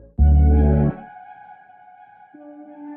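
Resampled vocal sample pitched up an octave and soaked in delay, heavy reverb and distortion, EQ'd to remove lows and highs: one short, loud sung note trails into a ringing wash, followed by a softer delayed echo, with no talking.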